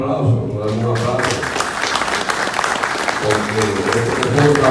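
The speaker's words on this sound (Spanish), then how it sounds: "Nos den un aplauso." An audience at a Journalists' Day celebration breaks into sustained applause, a thick, continuous clapping that stays loud throughout. Low voices murmur underneath.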